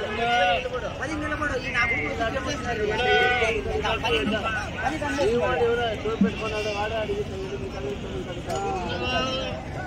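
Big goats at a village livestock market bleat repeatedly and overlap one another, fairly close, while people talk continuously around them.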